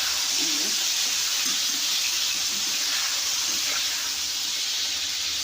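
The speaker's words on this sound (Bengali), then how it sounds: "একটু হালকা জল দিয়ে দিচ্ছি যাতে লঙ্কা গুঁড়োটা জ্বলে না যায়।" Water poured into a hot pan of chili powder, producing a loud, continuous hissing sizzle with a rushing, watery texture that holds steady throughout.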